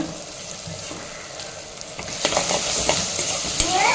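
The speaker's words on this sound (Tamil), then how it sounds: "வெங்காயம் தக்காளி நல்லா வதங்கணும்" Onions and tomatoes sautéing with fenugreek seeds and salt for a tamarind fenugreek curry, a steady sizzle with scraping stirs that grows louder and busier toward the end.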